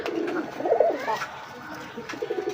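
Native pigeons for sale give soft, throaty coos in a short burst near the start, close by, then a few quieter calls over faint background noise.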